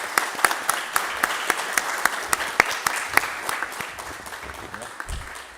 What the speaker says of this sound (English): So just want to give you all a round of applause.